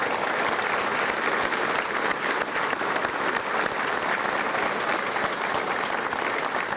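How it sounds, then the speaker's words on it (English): Steady, dense applause from an audience at a bill signing ceremony, continuous and even from start to finish with no voices over it. "let's give applause to your families more than anyone else"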